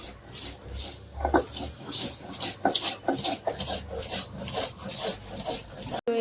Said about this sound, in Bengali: এই যে থানকুনি পাতা বেটে নেওয়া হইতেছে বড়া বানানোর জন্য